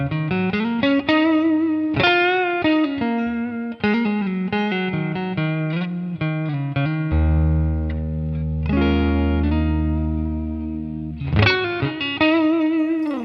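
Electric guitar plays distorted, chorused melodic lines and sustained chords through HX Effects and an Amoon American Sound pedal, loud and close, with reverb tails and no voices.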